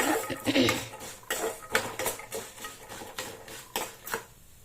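Peanuts roasting in a pan for peanut chutney, with a metal spoon or spatula scraping and clinking against the pan in quick, uneven strokes, close and fairly loud.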